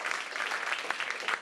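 Comedy club audience applauding at a Sydney stand-up gig, a steady wash of clapping with a few cheers, dense and continuous throughout, fairly close and moderately loud.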